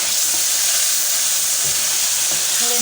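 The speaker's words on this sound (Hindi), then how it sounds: "और इनको कुछ देर तक भूनते हैं।" Boiled turnips fry in a hot pan, giving a loud, dense and continuous hiss of sizzling oil close up with no pauses.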